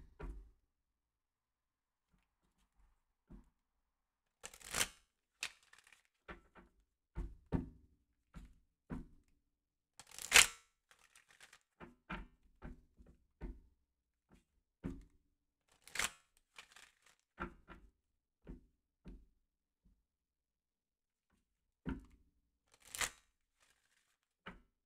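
Tarot cards are shuffled for a reading in a quiet room, with soft, scattered riffles, taps and thumps arriving in irregular bursts separated by silence.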